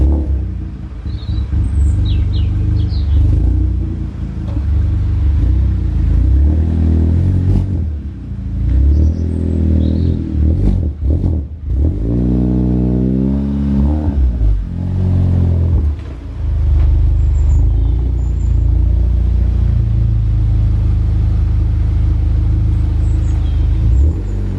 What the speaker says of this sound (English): So let's start her up and get her into the workshop and fit them fuel parts.